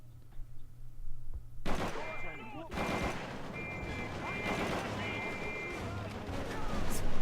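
Rapid gunfire from Call of Duty 3, a sudden loud fusillade of overlapping shots and bursts that keeps going after a quiet start, with ricochet-like pings and thuds mixed in.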